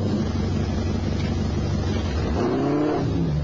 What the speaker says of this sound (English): It's the stealth car, a high-performance vehicle that's out of sight.